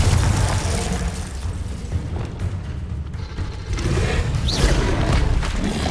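Explosive spell blasts from Hogwarts Legacy combat, a continuous dense rumble of booming bursts and magical impacts with no gaps, loud and close throughout.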